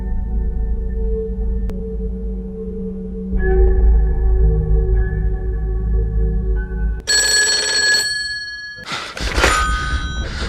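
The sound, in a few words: telephone ringing in a film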